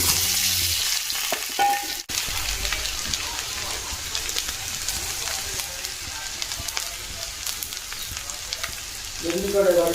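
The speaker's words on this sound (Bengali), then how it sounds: "আলুগুলো ভালো করে কষা করে নেব।" Boiled potatoes sauté with a paste of onion, chilli, garlic and ginger in a pan, a steady close sizzle and crackle running throughout, with a brief clatter near the start.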